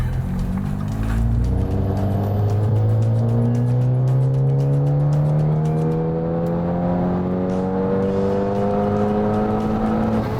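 An Audi A4 B8 fitted with a big turbo accelerates hard while driving, its engine tone climbing steadily through a long pull and then a gear change with a loud droning whir inside the cabin, with no voices.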